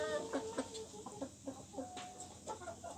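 Roosters cluck softly and repeatedly nearby, a busy chatter of short calls with one brief higher note, fairly faint overall.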